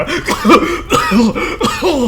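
A single person coughs over and over in a rough, voiced rhythm, with about four hoarse bursts in close succession.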